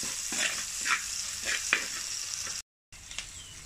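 Onions sautéing in hot oil in a pan for a Kerala mullet curry: a continuous loud sizzle with regular scraping stir strokes, cut by a brief silent gap near the end.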